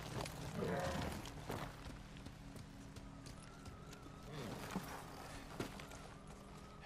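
Horse hooves clip-clop in Ghost of Tsushima as the horse moves at pace, a rhythmic patter with occasional snorts, heard over ambient game sound and faint voices.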